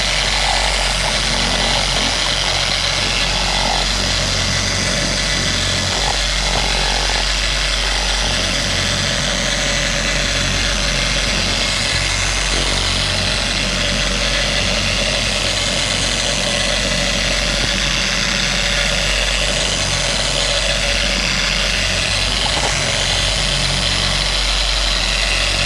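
A powered sanding machine wet sands car paint, humming and buzzing steadily at close range for the whole stretch with slight changes in tone as it works the surface, no one talking.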